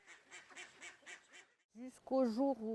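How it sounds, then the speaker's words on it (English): Rhythmic honking quacks from ducks or geese, a run of softer calls followed by louder, harsher nasal honks close by. "My ducks make noise and this bothers the neighbor."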